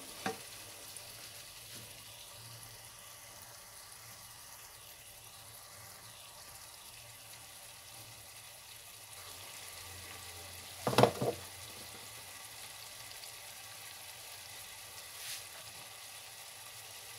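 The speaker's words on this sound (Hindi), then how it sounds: "अब इनको मैं अच्छी तरह भून लूँगी।" Eggplant frying in a pan while being stirred gives a faint, steady low sizzle, broken near the end by a brief clatter of utensil against the pan.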